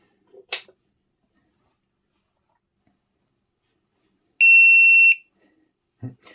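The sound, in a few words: battery charger beeping when switched on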